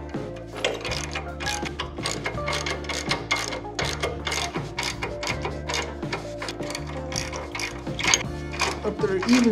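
A ratchet tightens bolts on the new tubular control arms of a 1955 Chevy in a home garage, giving a steady run of close, loud mechanical clicks in quick rhythmic bursts.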